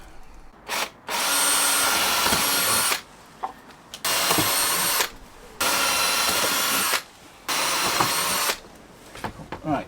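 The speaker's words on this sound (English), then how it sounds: "make the marks on there and drill through" Power drill boring through a panel while fitting a fridge and wine rack in a van build, running in four long loud bursts separated by short pauses, with brief clatter between runs.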